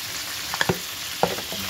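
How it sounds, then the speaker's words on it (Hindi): Red chilies and turmeric frying in a pan, a steady soft sizzle broken by a few sharp crackles and brief stirring scrapes, close and alone. "अब मैं इसको अच्छी तरह भून लूंगी"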